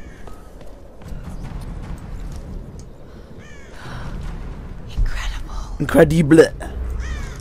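Crows cawing in the Tomb Raider video game, a few harsh calls rising out of the game's ambient noise in the second half, with someone talking over them.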